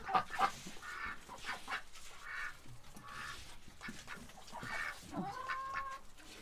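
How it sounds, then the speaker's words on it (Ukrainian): Noisy domestic ducks at a poultry yard quack in short, scattered bursts at moderate distance, several calls overlapping, with quiet gaps between them. "а оці галасливі, ці люблять вже поквакати побігати, покричати"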